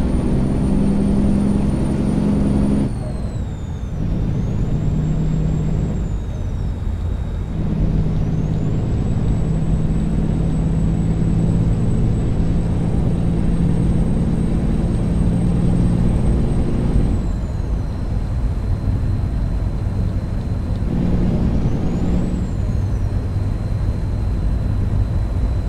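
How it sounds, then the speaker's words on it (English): A modded truck engine drones steadily in American Truck Simulator, loud and close, with pitch dropping at several gear shifts and a faint high whine running above the low rumble. "Now the engine sounds, the sound mod that I'm using"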